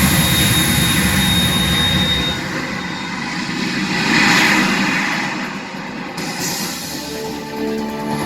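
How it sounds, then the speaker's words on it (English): Harrier jet engine in the video game Metal Gear Solid 2, a loud continuous roar with broad hiss that swells around the middle and eases off, with no voices. "You have to shoot the Harrier down."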